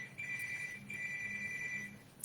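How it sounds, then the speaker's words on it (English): Mobile phone ringing quietly in a room during a talk: two bursts of a trilling electronic ringtone, each just under a second long, faint and alone with no talking over it. "Sorry, I forgot to shut my phone off."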